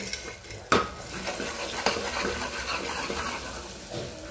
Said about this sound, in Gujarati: ધાણા જીરું, હળદર, મીઠું સરસ મિક્સ કરી લઈએ